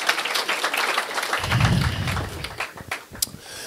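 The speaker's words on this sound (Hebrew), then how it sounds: "מגיע לכם כפיים, תמחו לעצמכם, מגיע לכם." An audience applauds at a religious lecture, with a burst of clapping that swells and then thins out over a few seconds.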